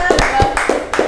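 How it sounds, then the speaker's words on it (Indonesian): A small classroom group claps briefly for a student team, a few scattered distinct hand claps close by, under a noisy room. "Beri tepuk tangan untuk kelompok 1."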